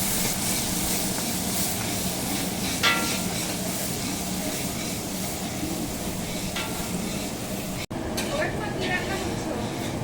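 Chopped onions with whole spices frying in a large kadai for meat curry, a continuous busy sizzle with scraping stir sounds and a brief cut near the end, close by.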